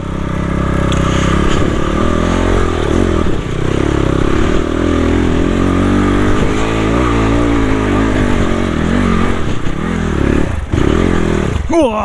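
Trail motorcycle engine revving hard on a steep dirt hill climb in Dujiangyan, China, loud and close, with the revs rising and falling over scraping and clattering, and no talk.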